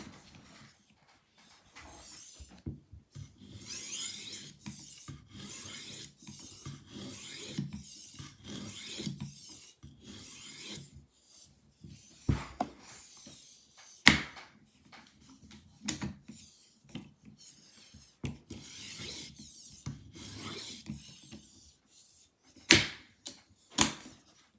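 A kitchen knife is drawn across an Arkansas sharpening stone in repeated gritty, rasping strokes, close and fairly quiet, with a steady back-and-forth rhythm, short pauses and a few sharper taps.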